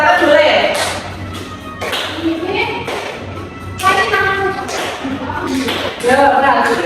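A classroom of pupils claps along while singing together to the tune of "Pelangi-pelangi" during an Indonesian language lesson; steady rhythmic claps and thumps run under the sung melody throughout.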